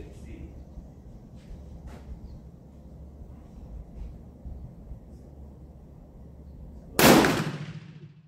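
A single loud, sharp gunshot from an Italian Vetterli Model 1870 center-fire carbine bursts out close by near the end, decaying quickly over a steady low background rumble.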